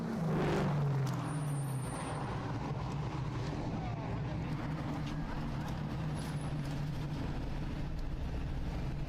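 A dirt late model race car at full throttle on the final push to the finish, a loud, steady engine roar close by with a rising pitch early on, under a commentator's voice.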